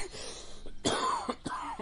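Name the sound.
coughing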